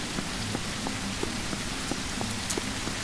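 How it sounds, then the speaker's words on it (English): Steady rain pattering on a surface in the video game Surroundead, with occasional louder drops standing out against the constant hiss; no voices. "it's raining hard"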